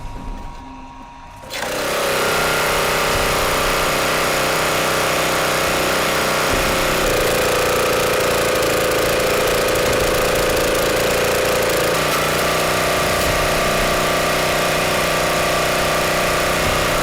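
An Equus SM660G portable sawmill's 13 horsepower four-stroke Lansen gasoline engine starts up and runs steadily and loudly close by, holding a constant droning hum with a slight shift partway through.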